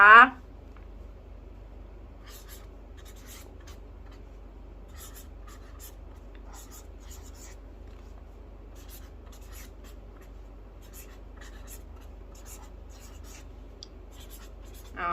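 Pen writing on paper up close, with steady soft scratching strokes and small taps that repeat irregularly over a long stretch, and brief bits of a voice at the very start and end.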